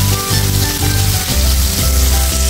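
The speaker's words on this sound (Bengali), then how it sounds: "দেখো বন্ধুরা চিংড়ি মাছ আমার ভাজা হয়ে গেছে।" Prawns sizzle as they fry in oil, giving a loud, close, continuous crackle with steady spattering and no voices.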